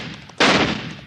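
A single sharp rifle shot in a Western radio drama set around a cattle drive, erupting suddenly and loudly, then ringing out in a broad decaying blast.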